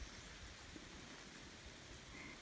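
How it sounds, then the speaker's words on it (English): Steady, soft hiss of rain falling outside a camper van in Croatia, a continuous even wash of noise with no voices, fairly quiet and constant throughout. "but it's raining."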